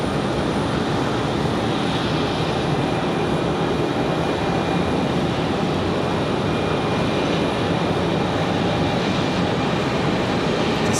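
JetBlue Retro-liveried airliner passing at Raleigh-Durham International Airport, a steady, loud engine roar and rush that stays constant throughout, with no talking.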